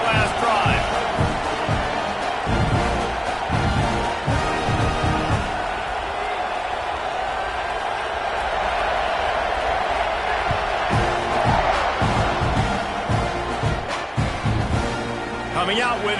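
Game crowd in the Madden American football video game keeps up a steady, loud roar with swells of cheering throughout, heard beneath continuous play-by-play commentary.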